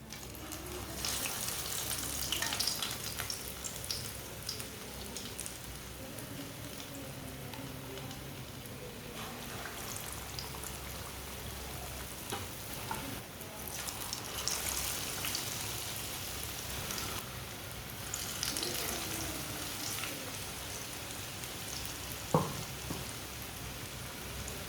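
Shami kababs dipped and dropped into hot oil sizzle and crackle in a steady, fairly quiet hiss, with a few brief louder pops.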